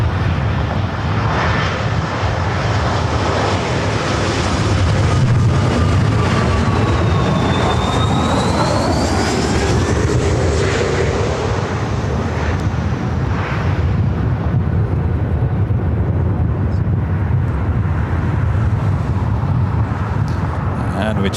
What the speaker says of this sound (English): E-Jet on short final for 24 right. This is United Express